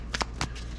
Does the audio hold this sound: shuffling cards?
yes